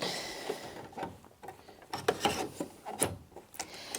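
An embroidery hoop is fitted onto a Brother Innov-is NV2700 sewing and embroidery machine, giving soft close rubbing, scraping and plastic clicking with a few sharper snaps.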